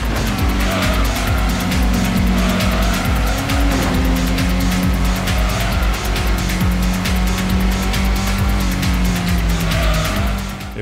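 Race cars from the PlayStation game Gran Turismo 1 drone steadily at high revs, with repeated tire squeals and skids over a dense, loud engine bed that runs throughout, no talking.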